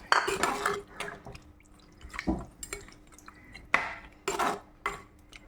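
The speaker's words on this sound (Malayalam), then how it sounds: "നമുക്ക് സ്വല്പം വെള്ളം ഒഴിച്ച് മൂടി വെച്ച് നമുക്ക് വേവിക്കാം." Water pours and splashes into a pot of Kerala fish curry in a few bursts, with metal clinks as a lid is set on top, close and fairly loud.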